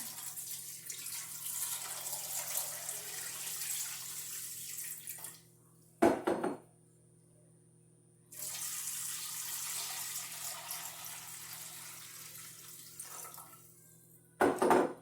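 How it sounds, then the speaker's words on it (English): Water gushes loudly into a metal pressure canner in two long pours separated by a pause, each ending with a clunk of the container. "I'm going to put two quarts of water in here"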